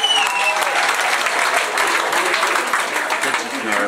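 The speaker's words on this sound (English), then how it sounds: "can I have a nice round of applause for you, young Snowy behind us" Dense, steady applause fills a hotel function room at a singing contest final in Blackpool, a loud crowd clapping continuously throughout, with faint speech at the start.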